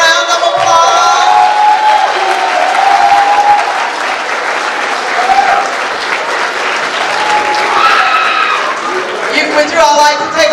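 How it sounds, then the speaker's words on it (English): Sustained audience applause for stage participants at a Black History event, loud and continuous throughout with a few raised voices mixed in. "let's give all of them a round of applause."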